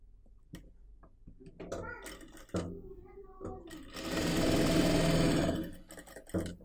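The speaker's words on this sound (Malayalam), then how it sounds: "നമുക്ക് അര ഇഞ്ചിൽ ഷോൾഡർ ഒന്ന് സ്റ്റിച്ച് ചേർക്കണം. ഡബിൾ സ്റ്റിച്ചാണ് നമ്മൾ ഷോൾഡറിന് കൊടുക്കുന്നത്" A sewing machine double-stitching a kurti shoulder seam at half an inch runs in one close, steady burst of about two seconds, with someone talking and small handling clicks before it.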